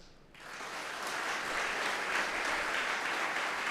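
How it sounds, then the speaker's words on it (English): An audience of about 100 to 150 people bursts into clapping together, rising quickly into a steady, dense wash of applause that stays loud to the end. "Clap, all of you clap."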